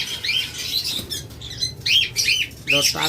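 Blue conure parrots, pure blue birds in a breeder's aviary, giving repeated harsh squawks and chirps in bursts, close and fairly loud, with wing flutters and scrabbling between calls.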